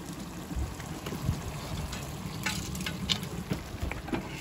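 Onions with red chili, coriander and turmeric powders fry in a pan while cooking outdoors in a sunny garden, producing a continuous crackling sizzle with scattered louder pops and spatters.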